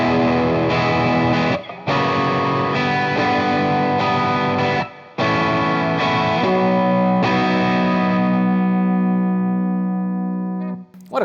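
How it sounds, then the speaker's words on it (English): Fender Aerodyne Telecaster on the bridge pickup, driven through a Tube Screamer overdrive: loud, gritty chords with chorus and reverb, struck in a steady rhythm with short breaks, ending on a long sustained chord that fades, no voices. "The bridge, of course, sounds great with the tube screamer."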